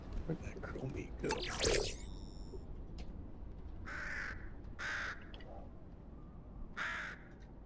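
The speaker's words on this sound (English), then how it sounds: "Oh, I hear another crow in." A crow in the Fortnite video game caws several times in short separate bursts at moderate distance, with soft game sounds and a brief rustle beforehand.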